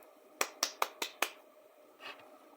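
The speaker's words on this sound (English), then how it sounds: "Get the golf clap for that one." A slow, polite golf clap: five crisp, evenly spaced claps in quick succession, then one softer, blurred clap. The claps are close and clear against a quiet background with no talking.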